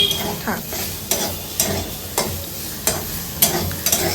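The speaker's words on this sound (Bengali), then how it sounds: "আজকে শুধু উচ্ছে ভাজা" Bitter gourd fried in a little oil sizzles and crackles in a pan, with repeated scraping stirs from a spatula at an uneven rhythm, close and fairly loud.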